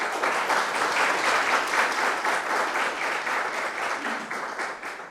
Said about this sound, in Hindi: इसीलिए एक बार और ताली बजाइए।